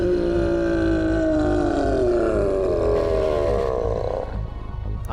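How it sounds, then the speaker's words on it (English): Berserker monster roaring in Fate/Hollow Ataraxia, one long loud bellowing roar that holds for several seconds before fading. "I can hear a roar."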